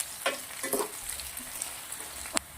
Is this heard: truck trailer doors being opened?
no